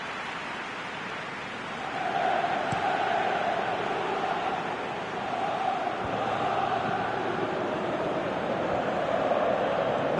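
Stadium crowd in the football game PES 2019 reacting to a near miss on goal, a steady broad roar that swells slightly partway through and holds, distant and continuous with no speech.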